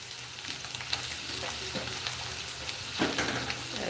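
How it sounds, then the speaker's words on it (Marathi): Boiled potatoes for sabudana khichdi fry in a pan with a steady, close sizzle, while a spoon stirs and scrapes them every so often without any speech. "बटाटे आपल्याला थोडेसे फ्राय होईपर्यंत असंच हे करायचं कलर येईपर्यंत"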